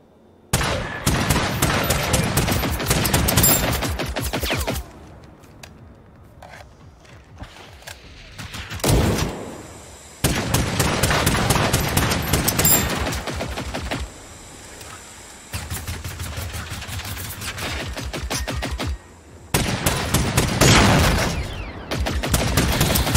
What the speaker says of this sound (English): I'm trying to fire from the hip. I want to use as much of this ammo with the S21